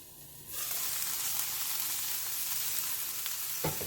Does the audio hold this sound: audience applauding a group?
no